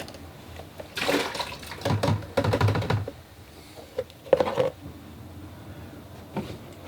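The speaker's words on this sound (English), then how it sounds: "I'm going to change my water." Water sloshes and pours as a paint-rinsing container for watercolor painting is emptied and refilled, coming in several splashy bursts separated by quieter moments, close by.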